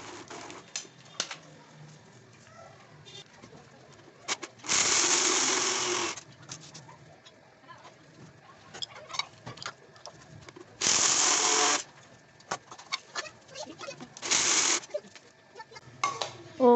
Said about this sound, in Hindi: अब मैं ग्राइंड करने लगी हूँ आलमंड